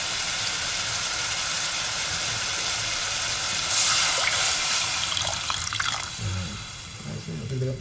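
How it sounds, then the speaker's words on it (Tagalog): Water poured into a cooking pot for a Filipino dish with malunggay, a steady broadband splashing stream throughout that swells louder midway, with some clattering near the end. "Lagyan po natin ng tubig."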